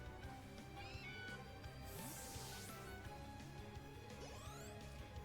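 Meowth's cry in a Pokémon video game battle: synthesized meow-like chirps over looping battle music, with sweeping whooshes and a hit effect, moderately faint, no talking.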